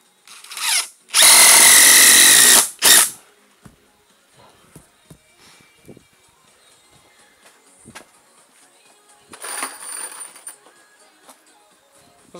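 Power drill driving screws into wooden ceiling battens for a suspended ceiling frame, with one loud close burst of about two seconds, a short second pulse, then scattered taps and a fainter later run.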